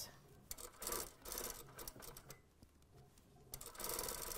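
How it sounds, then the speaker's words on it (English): A sewing machine stitches a trouser crotch seam in short whirring runs with brief pauses between them; close and fairly quiet, with no talk. "Stitching this all the way around."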